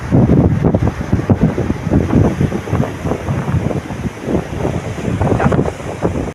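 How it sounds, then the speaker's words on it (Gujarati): Sea waves wash against the Diu coast under strong wind that buffets the microphone, making a loud, rough, continuous roar with surging swells and no voices. "દરિયાનો અવાજ સાંભળો, મજા આવે તો."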